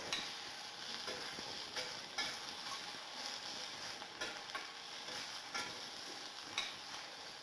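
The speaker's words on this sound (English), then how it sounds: "Keep on stirring." Food is stirred in a pan, giving a soft, steady sizzle broken by faint periodic scraping strokes, quiet and close with no talking.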